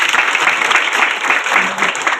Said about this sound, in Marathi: त्यांच्याकरता एकदा टाळी वाजवा.